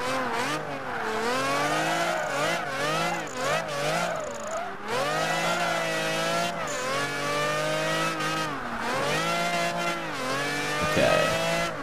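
A car drifting through a drift challenge in Project Gotham Racing 3, the engine revving and rising and falling in pitch while tires squeal through long slides, loud and continuous for the whole stretch.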